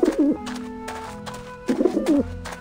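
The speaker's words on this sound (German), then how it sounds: "Ich find diese Tauben so. Guckt euch die Taube an!" Pigeons in Grim Fandango Remastered give two soft, throaty coo phrases separated by a pause, close and clear over a quiet game background.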